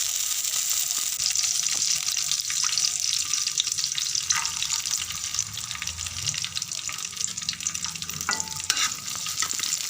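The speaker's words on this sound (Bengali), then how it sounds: "এখন আমি ভেজে নিচ্ছি গাজর, তারপর এখন আমি বিনস ভেজে নিচ্ছি" Carrots and beans fry in a pan with a steady, bright sizzle, broken by repeated scraping and clinking as the vegetables are stirred, close up and with only faint talk.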